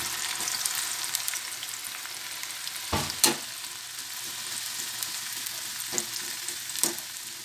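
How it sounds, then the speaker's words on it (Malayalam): Chopped onions sizzle steadily in hot oil for chicken biryani, with a continuous close frying hiss broken by a few sharp stirring clatters and spatters. "ഇനി നമുക്ക് ഈ സവാള അരിഞ്ഞത് ചെറുതായിട്ട് അരിഞ്ഞ് വെച്ചിട്ടുണ്ട്, അതും കൂടെ നമുക്ക് ഫ്രൈ ചെയ്തെടുക്കാം."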